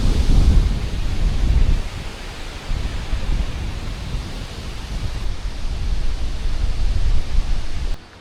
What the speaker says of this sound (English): You can hear that wind now.